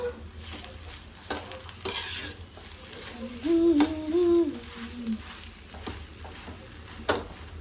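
Rice being stirred in a hot pan, a close scraping and sizzling with spoon knocks against the metal, steady in rhythm, while a faint voice murmurs in the background.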